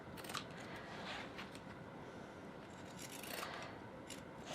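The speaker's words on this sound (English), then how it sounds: "I also like to just go around the curved areas with the pinking shears" Pinking shears snip through fabric around curved seams in a quick run of crisp, rasping cuts, close and fairly quiet.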